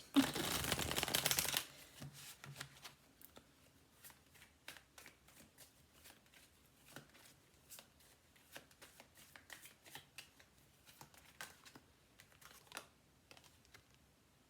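Tarot cards are riffled and shuffled in a quick loud burst, then a string of light snaps and soft slaps follow as single cards are laid down and handled one at a time, close and quiet.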